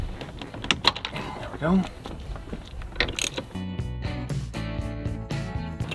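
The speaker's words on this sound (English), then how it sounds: "next with a 13mm socket, we go ahead, take the bolt loose that's holding the steering wheel in place" A ratchet with a 13mm socket loosens the steering wheel bolt on an SRT-4, giving close clicking and ratcheting mechanical sounds over several seconds, with a short spoken remark midway.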